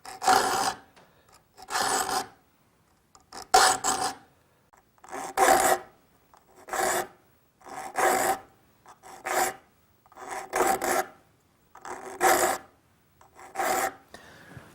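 A hand file sharpens the teeth of a rip saw in slow, even strokes, each a crisp rasp of about a second followed by a short pause, repeating around nine times close up.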